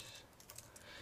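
Fingers type on a computer keyboard while HTML code is entered, a faint run of quick, light clicks close by in a quiet room.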